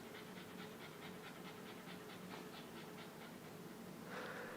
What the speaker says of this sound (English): Why do I hear a dog panting?